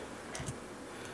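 Two soft mouse clicks in quick succession, selecting a custom time range in security camera playback software; faint and close, with a quiet hiss around them.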